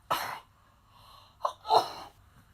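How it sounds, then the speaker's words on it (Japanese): A woman sneezes, with a sharp burst followed by a second, louder sneeze moments later, close and clear in a quiet room with no talking. "くしゃみ出ちゃった。"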